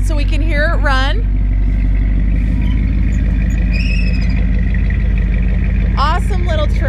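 A 1966 Ford F100 pickup with a four-speed idles steadily nearby, a loud, low, constant engine rumble running throughout while people talk over it outdoors.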